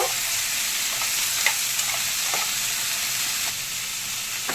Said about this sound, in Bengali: টমেটো কাঁচা লঙ্কা আলু একসাথে দিয়ে দেব এবার ভালো করে নেড়ে নেব